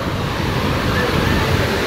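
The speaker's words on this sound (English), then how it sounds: "Oh yeah, the waves just started." Waves in a wave pool at a water park, a loud continuous broadband wash and rumble with wind noise on the mic, steady throughout with no clear speech.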